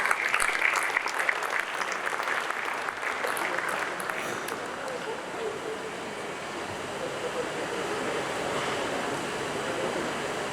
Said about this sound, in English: Please give a huge round of applause for Mr.